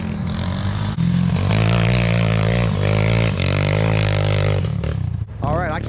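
A Honda four-wheeler ATV with solid front and rear axles rides nearby, its engine droning and revving in surges with a few clunks and rattles, loud and continuous, with a voice speaking over it at times.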